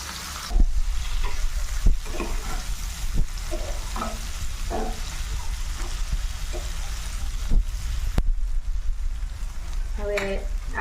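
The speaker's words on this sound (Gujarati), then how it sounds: "ટમેટા પણ આપણે આખા જ રાખવાના છે। એને આપણે તેલમાં બરોબર ફ્રાય થવા દઈએ।" Whole tomatoes fry in hot oil for a Kathiyawadi garlic chutney, giving a steady close sizzle with occasional spatters and the clatter of stirring, with no talk.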